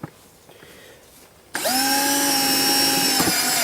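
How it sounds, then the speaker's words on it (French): Power drill boring holes in a plastic bucket with a 1.5 cm bit: a quiet start, then a loud, steady whining drone that holds for about two seconds, close up and alone. "Voilà, que je vais percer 3 trous, là, tout simple, avec une mèche"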